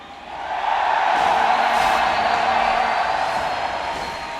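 A crowd of about 3,000 fans cheers at a League of Legends match in Anaheim, a loud, sustained roar that swells quickly and holds steady before easing slightly toward the end.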